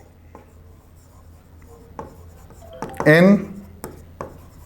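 Writing on a board during a maths lesson: a few short scratchy strokes scattered under a man's speech.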